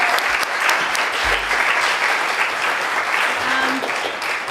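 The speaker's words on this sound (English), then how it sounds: "Let's give a round of applause to everyone who was on stage tonight." An audience applauds performers on stage at the end of an evening show, dense sustained clapping filling the room with no talk over it.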